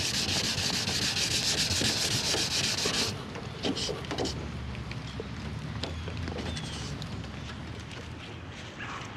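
Steady abrasive sanding scrapes on car bodywork close by, loud and continuous at first, then lighter, more intermittent rubbing strokes follow.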